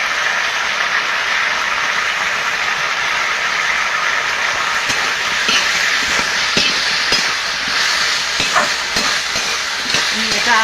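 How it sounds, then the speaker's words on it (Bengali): Ground spice paste for a hilsa fish and Malabar spinach curry sautés in a pan, giving a dense, continuous sizzle with frequent spatula scrapes and knocks through the second half. "আমি এটা আর একটু কষিয়ে নেব।"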